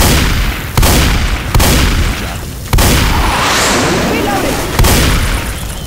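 Repeated heavy gunshots with incendiary fire rounds in Left 4 Dead 2, loud booming blasts spaced about a second apart, with a shot-out voice in the background.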